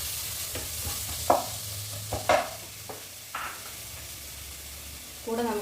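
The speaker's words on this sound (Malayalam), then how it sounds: "ഇതൊന്ന് നന്നായിട്ട് വഴറ്റി തക്കാളിയുടെ നീരെല്ലാം കൂടെ ഇറങ്ങി ഈ മസാലയിലൊന്ന് പിടിക്കണം" Tomato and curry leaves are sautéed in a soya chunk masala, giving a soft sizzle under a few scraping stirs and clinks of the spoon against the pan.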